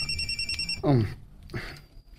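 A mobile phone rings with bright, high electronic ringtone tones for about the first second. A short sweeping, warbling sound follows, and faint noises fill the quieter remainder.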